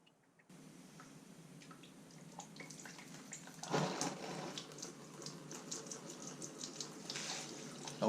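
Coolant drains from a Kawasaki Ninja motorcycle's cylinder drain plug into a pan, a close, steady trickling splash that grows louder after a sudden gush and keeps pouring.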